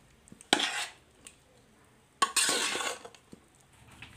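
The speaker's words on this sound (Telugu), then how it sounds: "ముందుగా రైస్లో చింతపండు గుజ్జుని వేసుకొని బాగా కలుపుకోవాలి" A spoon mixes tamarind pulp into cooked rice in a vessel for pulihora, giving two short bursts of scraping and clinking, close and fairly soft, separated by quiet pauses.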